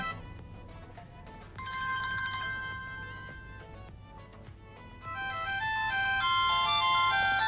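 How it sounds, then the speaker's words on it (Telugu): A bright electronic ringtone melody plays from a smartwatch speaker, changing to a different tune partway through, clear and close with no talking. "అక్కడ రింగ్ టోన్స్ కూడా మనకు ఉన్నాయి, 1, 2, 3 ఉన్నాయి."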